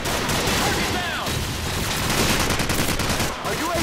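Rapid automatic gunfire and explosions rattle continuously in Call of Duty 4 multiplayer, with dense bursts of shots filling the whole stretch and players talking underneath.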